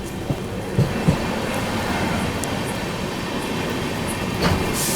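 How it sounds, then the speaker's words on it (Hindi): The Vijayawada–MGR Chennai Central Jan Shatabdi Express passes on a parallel track, heard from aboard a moving Tamil Nadu Superfast Express in a 2AC coach as a loud, steady rail rumble with faint wheel clicks and a few squeals. "ये आ गई आप लोगों के MGR चेन्नई सेंट्रल की ओर जाने वाली जन शताब्दी एक्सप्रेस, जो कि विजयवाड़ा से आ रही है।"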